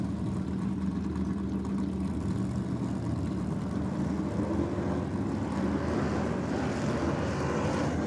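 A 426 Mopar-powered AP6 Valiant drag car and a rival launch at a drag meet, a broad engine roar that builds steadily louder and harsher toward the end, with no voices over it.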